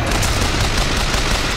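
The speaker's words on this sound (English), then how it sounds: "Who's shooting me?" Gunfire rattles in the video game BioShock Infinite, a loud, dense burst of close shots packed into a continuous crackling volley, with no voices.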